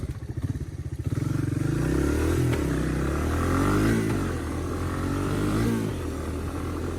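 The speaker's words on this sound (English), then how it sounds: "that exhaust sounds good" A loud ATV engine idles with a rhythmic chug, then revs up and down several times, its exhaust rumbling close by with some clatter.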